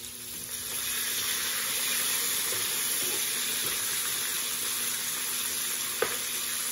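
Freshly caught spot fish coated with vinegar sizzles steadily in hot oil, a dense, even crackle throughout with one small pop near the end.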